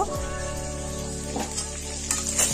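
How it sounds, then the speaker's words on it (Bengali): Eggs sizzle and fry steadily in a pan at close range, a continuous crackling hiss with a few brief stirring or scraping touches and no talk. "সেখানে ডিমগুলো ভেজে নিচ্ছি"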